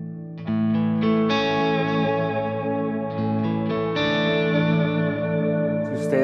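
Electric guitar chords through a NUX MG30 multi-effects unit with overdrive set at 5%, lightly driven and sustained, changing chords several times with a slight edge and a brief scrape at the end.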